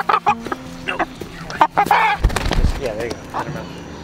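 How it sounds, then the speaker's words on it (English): Honking and quacking calls of ducks and geese come in short bursts, fairly close, mixed with people talking and some splashing. "the ducks are like ridiculously happy right now, and the geese."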